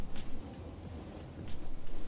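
Rain falls steadily on a rainy day while thunder rumbles in low, rolling swells that rise and fall over the pattering wash.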